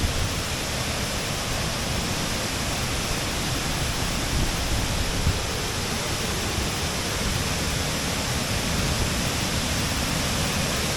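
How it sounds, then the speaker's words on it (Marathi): Savatkada waterfall at Chunakolvan near Rajapur in the Konkan, swollen with water, roars as a dense, unbroken rush of noise that fills the whole stretch at close range. "हा धबधब्याला खूप पाणी आहे"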